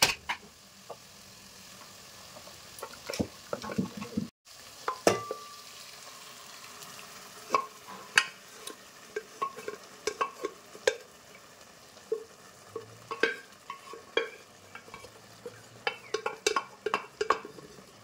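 Spoon stirring boiled lentils into cooked sambar vegetables in a pot, with soft scraping clinks and light bubbling in irregular bursts throughout, moderately close and fairly quiet.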